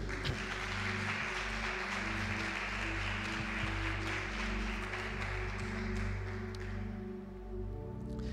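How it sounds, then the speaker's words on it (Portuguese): A church congregation applauding for Jesus during a Portuguese-language service, a sustained dense wash of clapping from many hands that fills the room and slowly fades at the end. "E dá uma salva de palmas para Jesus."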